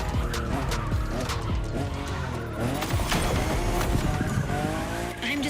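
A fifth-generation Toyota Supra drives hard with its engine roaring and tires squealing and skidding, loud and close and continuous for several seconds, with music or other noise layered underneath.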